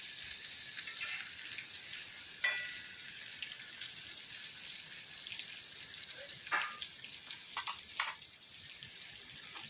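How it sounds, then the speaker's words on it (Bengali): Bitter gourd (karela) slices frying in oil in a kadai, a continuous bright hissing sizzle with a few sharper pops and spatters, close and unaccompanied by talk. "করলাগুলিকে লালচে লালচে করে ভেজে নেব।"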